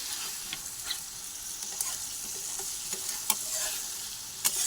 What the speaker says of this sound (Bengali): এই যে ভালো করে কষিয়ে নিতে হবে এবারে